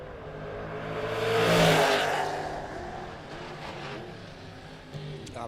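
A Camaro drag race car launches and roars at a drag strip event. The engine rises to a loud peak, then holds a steady droning whine as it pulls away toward the distance.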